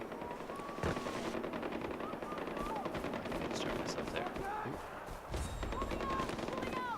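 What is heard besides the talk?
gunfire in video game Far Cry 4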